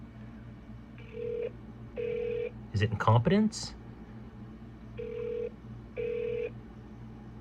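Telephone at a city hall front desk in Dayton, Ohio ringing unanswered, with four evenly spaced double-tone rings heard clearly and a voice speaking briefly between them.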